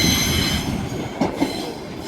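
Train rushing through Carlisle station on the West Coast Main Line, bound for Newcastle: a loud, steady rumble with rail noise and a couple of brief louder knocks from the wheels, no voices.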